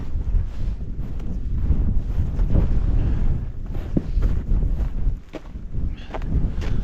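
Breeze gusts across a cold, exposed mountainside on Bow Fell, buffeting the microphone in uneven rushes with faint rustling and footsteps close by, no voices.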